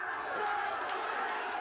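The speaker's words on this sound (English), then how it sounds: "the crowd are just baying for blood" A cage fight crowd shouting and baying, a dense continuous roar of many voices with no single speaker standing out, loud and steady throughout.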